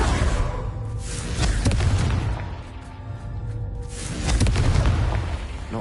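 Confringo fire spell blasts in Hogwarts Legacy, two loud booming explosions with crackling debris, the second rolling in near the end.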